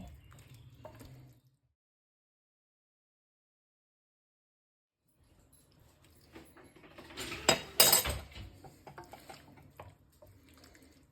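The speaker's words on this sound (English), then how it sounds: "add some parmesan like this and mix nicely" Parmesan is stirred into a sauce in a pan off the heat, with soft scraping at the start, a long silent gap, then a burst of wet stirring and clinks of utensil against the pan, close and fairly faint.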